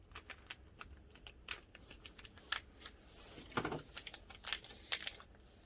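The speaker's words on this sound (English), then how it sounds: "Use my little trusty mini scissors here." Quick, sharp snips and small crinkly clicks from mini scissors opening packaging for RC car parts, close up, in irregular bursts over several seconds with a few louder cuts.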